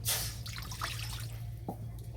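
Water is poured into a wok, starting with a bright splash, then a soft running and dripping wash under a low steady hum.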